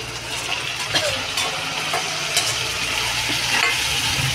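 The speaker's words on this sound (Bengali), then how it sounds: "এবার বন্ধুরা দিয়ে দেবো আমি এই যে পেঁয়াজটা আর লঙ্কা কুচিটা" Chopped onion and green chili frying in hot oil, a steady close sizzle with a few soft stirring scrapes, no talk, for pav bhaji at home.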